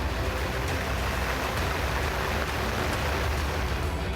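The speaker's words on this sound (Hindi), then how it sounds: "गांव की गलियों और सड़कों पर बाढ़ का पानी तेज रफ्तार से बह रहा है।" Floodwater rushes steadily through village lanes and streets during heavy monsoon rains, a loud, unbroken broadband roar with no pauses, sounding close and continuous.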